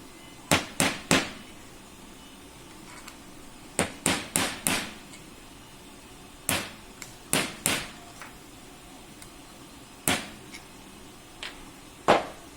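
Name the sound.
hammering a bolt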